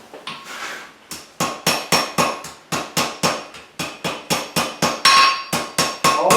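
A blacksmith's hammer taps a flux-coated forge weld on a Claydon knot, striking about twenty sharp, evenly spaced blows close by with ringing metallic decay and no talk.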